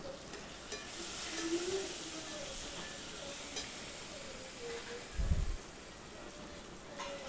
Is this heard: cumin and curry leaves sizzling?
yes